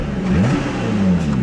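Revving 3.5-liter Toyota 2GR-FE V6 in a 2014 Lotus Evora S, its engine note rising and falling steadily and loud throughout, with no talk.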